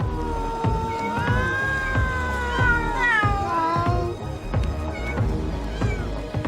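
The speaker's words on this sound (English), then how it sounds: "Here, cats outnumber people 6 to 1." Domestic cats meowing on Aoshima, Japan's Cat Island, several overlapping cries rising and falling with some drawn-out caterwauling, close and fairly loud over a steady low background.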